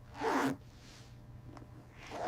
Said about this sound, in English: And the zipper action is very smooth.